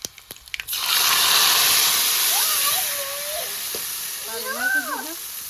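Tempering of cumin, garlic and curry leaves hits hot oil with a sudden loud sizzle after a few clicks, staying as a steady hiss; faint voices or tones appear near the end, for a Gujarati bitter gourd (karela) curry.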